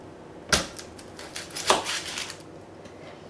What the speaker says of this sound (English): For the red onion, you want to cut off this end and